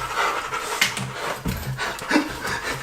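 Dog panting close by in the wilderness near a tunnel entrance, quick rhythmic breaths rasping continuously with faint rustling underneath.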